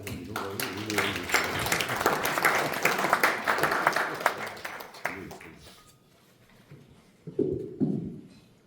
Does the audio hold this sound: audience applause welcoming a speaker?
yes